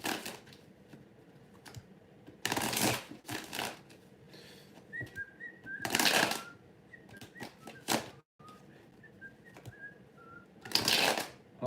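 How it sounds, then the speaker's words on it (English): Tarot cards are shuffled in several quick riffling bursts spread across the span, with quieter handling and soft card sounds in between, close and fairly faint. "Okay, why are you not shuffling nicely now?"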